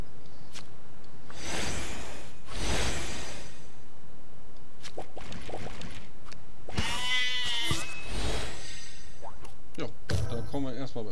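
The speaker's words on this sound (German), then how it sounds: "Einmal schwarzes Schaf." Sheep bleating from a black sheep card in the Krosmaga video game, several loud bleats in bursts amid game sound effects, with someone talking over parts of it.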